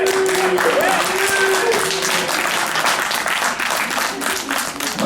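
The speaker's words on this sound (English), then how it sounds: "Let's give a round of applause to Rick Cantor." Sustained audience applause fills a hall at a Pacific Islander community celebration at a college, dense steady clapping with some cheering and crowd voices mixed in, loud and continuous throughout.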